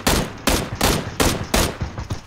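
Rapid gunfire in a PlayerUnknown's Battlegrounds match, loud close shots in a steady run of about five heavy bursts with shorter cracks trailing at the end.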